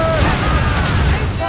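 A ship's cannon volley rumbles continuously in the naval combat of Assassin's Creed Rogue, loud overlapping booms with crew voices calling over the din.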